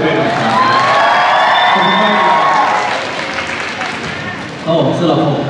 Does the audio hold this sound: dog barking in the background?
no